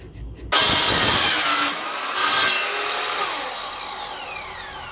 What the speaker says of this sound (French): je vais couper les planches à la bonne dimension